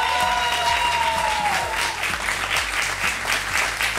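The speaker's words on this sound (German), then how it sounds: "jetzt einen großen Applaus!" An audience at a cheque presentation for a music club claps steadily and warmly throughout, a dense, even patter of many hands.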